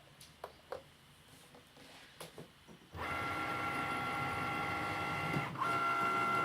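A Cricut cutting machine starts up partway through, its steady mechanical whir and motor hum scoring and cutting paper for a pop-up box card, loud and continuous after a few quieter handling clicks.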